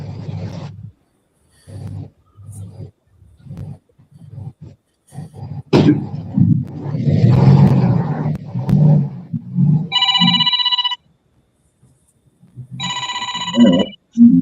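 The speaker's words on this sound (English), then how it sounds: "What kind of old ass ringtone is that?" An old-fashioned telephone ringtone sounds in two loud, bright bursts of rapid bell-like trilling, separated by a pause, with people talking and laughing close by before and between the rings.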